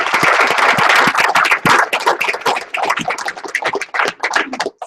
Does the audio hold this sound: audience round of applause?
yes